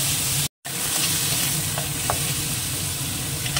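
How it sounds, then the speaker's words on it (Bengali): Shrimp stir-fried in a pan with dried red chilies, giving a loud continuous sizzle with a few scraping stirs and a brief cut to silence near the start. "দিয়ে দেবো একটুখানি চিংড়ি, একটু নেড়ে নেবো, শুধু বেশি ভাজবে না"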